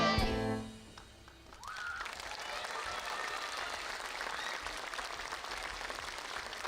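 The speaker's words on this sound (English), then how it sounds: "give Granity School a massive round of applause." School show audience applauding after a play, opening with a brief musical tone, then a brief dip before a sustained broad wash of clapping fills the rest of the clip.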